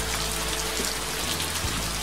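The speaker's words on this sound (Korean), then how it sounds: "비가 와요." Rain falling steadily, a dense, even patter of drops on a surface that fills the whole stretch, loud and close with no voices.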